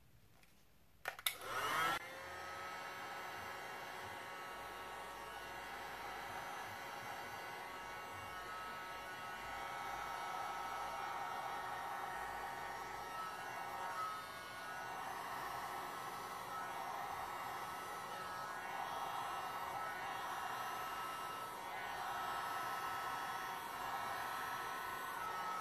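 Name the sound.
hair dryer blowing over resin art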